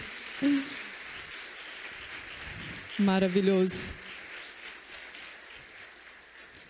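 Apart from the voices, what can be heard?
church congregation applause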